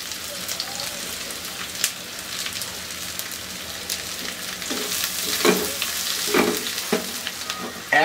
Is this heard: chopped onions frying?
yes